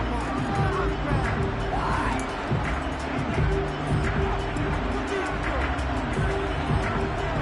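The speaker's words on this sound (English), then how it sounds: "Plenty of shouts from this crowd as they watch the replay." Stadium crowd noise from a Madden football video game, a steady dense roar of shouting and babble filling the whole stretch at an even level with no commentary over it.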